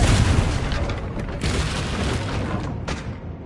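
A Confringo blasting spell exploding in Hogwarts Legacy, heard as a loud, close boom at the start that rumbles and decays over a few seconds, with a couple of fainter bursts following.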